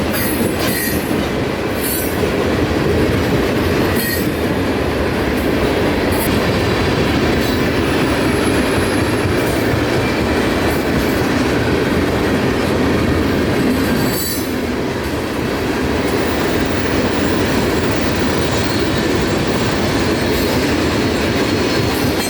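A long freight train of about 90 cars led by two Canadian National locomotives rumbles steadily past close by in downtown Ocala, wheels clattering and squealing on the rails with a continuous heavy roar.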